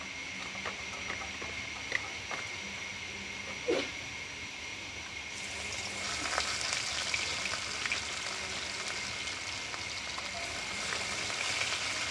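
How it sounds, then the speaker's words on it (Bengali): Koi fish fry in hot oil, a continuous close sizzle with occasional pops and spatters that grows denser and louder partway through and stays steady to the end. "আমার তেলটা গরম হয়ে গেছে মাছগুলোকে এবার ভেজে নেবো"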